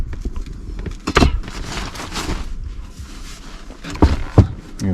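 A toilet cabinet door inside a VW Transporter T6 van is moved and shut, with several close wooden knocks, sliding rubs and clunks at irregular intervals.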